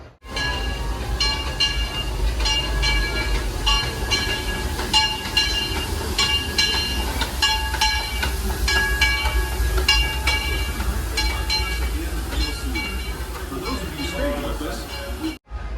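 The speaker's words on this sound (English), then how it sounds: "the cool thing about the Disneyland Railroad is that a lot of the action is happening right here as the tram moves" The Disneyland Railroad train rolls along with a steady rumble and rhythmic clicking of wheels on the track, loud and continuous, with people talking over it.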